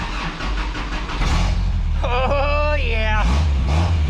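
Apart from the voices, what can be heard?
1967 Toyota Stout truck engine starting and running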